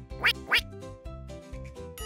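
A mother duck in a children's cartoon story quacks twice in quick succession, bright and close, over a soft musical background.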